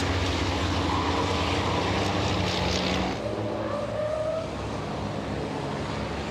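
Big racing trucks at Le Mans rumble around on cool-down laps, a steady broad engine drone with a passing swell that eases to a lower, more distant hum.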